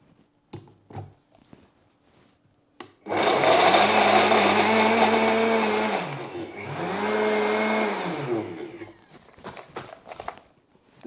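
A blender whirs loudly through a sugar-free, protein-packed truffle mixture in two long bursts with a brief dip between them, framed by quiet handling clatter before and after.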